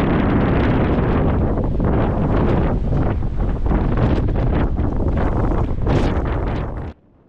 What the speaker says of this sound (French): Ça, c'est le souffle du vent dominant, le Mistral.